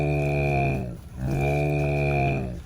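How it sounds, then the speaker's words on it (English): A cow moos twice in long, loud, drawn-out calls with a brief gap between them, each low bellow swelling and then fading. "I think this is a cow"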